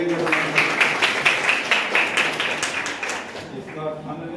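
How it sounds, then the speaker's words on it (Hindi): Students in a Class 10 Hindi classroom clap for a classmate, a dense, steady patter of many hands that carries on for several seconds before fading out, with some talk mixed in. "सभी लोग इनके लिए ताली बजाइए"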